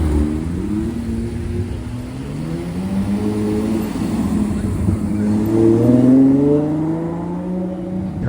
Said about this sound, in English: there's a lot of cars just revving like crazy today